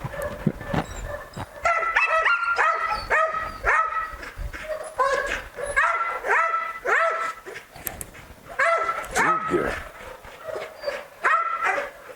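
Belgian Malinois barks repeatedly during training on a farm, loud close yips and barks coming in quick bursts of several with short pauses between, with occasional whimpers.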